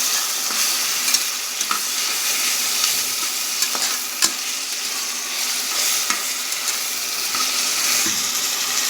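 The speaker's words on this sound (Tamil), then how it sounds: "தக்காளியும் ஒரு 2 நிமிஷம் வதங்கட்டுங்க" Tomatoes sautéing in a pan for mushroom biryani, a bright continuous sizzle close by, with scattered ladle clicks and stirring taps throughout, no speech.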